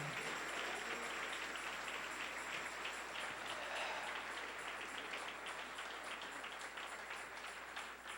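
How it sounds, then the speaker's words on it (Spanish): Church congregation applauding during a Spanish-language sermon, steady dense clapping from a crowd that fills the whole stretch, moderately distant, with no talk over it. "Dele un aplauso al Señor."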